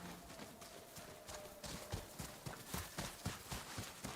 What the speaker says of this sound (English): Samurai horses.